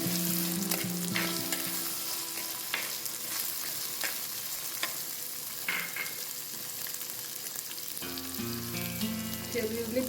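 Chopped shallots frying in spice paste for a Kerala fish curry, a strong, steady sizzle with repeated stirring scrapes close by, and a brief tonal change near the end.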